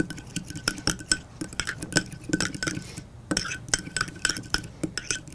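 Barbecue sauce and mustard glaze being mixed for grilled pork chops, a steady run of close clinks and scrapes of a utensil against a bowl, repeated in quick irregular bursts with no talking.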